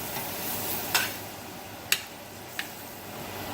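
Butter sizzles in a pan at a steady low hiss, with three sharp utensil clicks or taps scraping against the pan.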